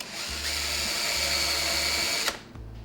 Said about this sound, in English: I'm going to try using a countersink on this side for the epoxy